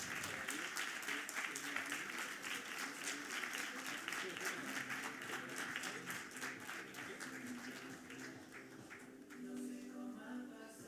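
Sustained audience applause at an international pastry showcase honoring the pastry chef, loud and steady for about ten seconds, dense clapping that thins slightly toward the end, with some voices mixed in.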